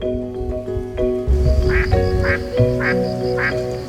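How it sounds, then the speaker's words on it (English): Ducks, spotted-billed ducks among them, quack at Longluan Lake in autumn: a steady run of loud, nasal calls repeating about every half second, close by, over a busy background of other water birds. "Ducks are omnivorous birds."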